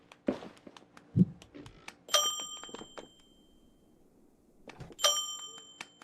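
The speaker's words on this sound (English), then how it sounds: "Who's ringing the bell?" A doorbell rings twice, bright ringing tones a few seconds apart, among scattered thuds and clicks in a quiet room.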